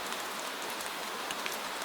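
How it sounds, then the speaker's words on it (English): Gentle rain falls steadily through a narrow lane between houses on a night in medieval Prague, a soft, even hiss with scattered patters of drops, continuous and unhurried with no voices. "the sigh of rain in the narrow air between houses"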